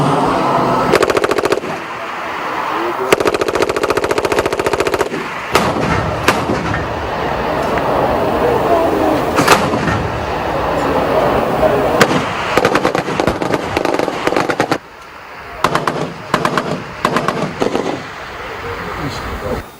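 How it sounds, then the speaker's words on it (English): Military artillery and rapid gunfire boom and crackle throughout a Nigerian Army firepower demonstration, with artillery guns, armored tanks and air platforms assaulting a designated target; loud dense bursts and volleys, with brief pauses between salvos. "featuring firepower demonstration with artillery guns, armored tanks and air platforms during assault on a designated target"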